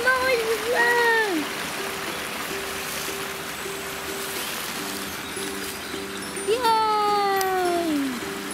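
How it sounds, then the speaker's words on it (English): A stream flows with a soft, steady broadband rush throughout, under high-pitched voices at the start and end and a low hum. "Yes, the water, and that's the stream."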